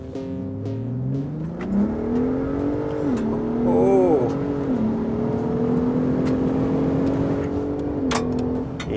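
A Ford F-150 Raptor pickup revs up with its exhaust in Baja mode and holds a deep, throaty drone, rising and settling in pitch, with a brief exclamation from someone nearby.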